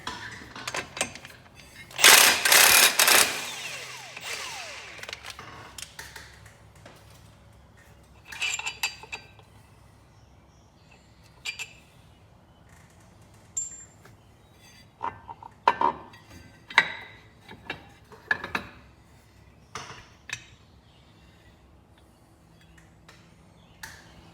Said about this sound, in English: Now I gotta take this bolt out and slide the clutch off.